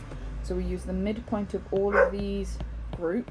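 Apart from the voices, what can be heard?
dog barking in the background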